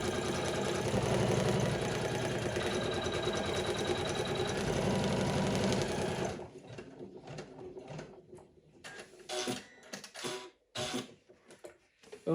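An embroidery machine stitches a leather patch onto a beanie, a fast, loud mechanical whir of needle strokes running steadily for about six seconds before stopping, followed by quieter scattered clicks and handling noises.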